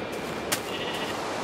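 A single bleat from a sheep in Minecraft, short and fairly close, over a steady hiss of background noise, with no talking.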